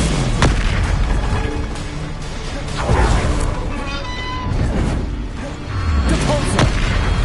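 Spells crackle and boom during combat in Hogwarts Legacy, including an Expelliarmus disarming spell, as several loud, close bursts and thumps pile on top of each other amid busy game noise.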